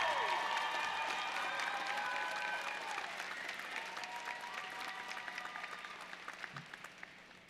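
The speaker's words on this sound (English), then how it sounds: "huge round of applause" A graduation ceremony crowd claps in a broad round of applause that starts strong and gradually thins and fades, with a few sustained tones or voices heard at the outset.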